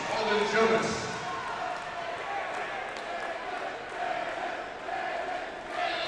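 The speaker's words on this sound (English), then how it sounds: "the Lee Summit loud crowd goes absolutely bananas" A large indoor crowd at a high school basketball game roars and cheers loudly and steadily, with an announcer-like voice carrying over the din.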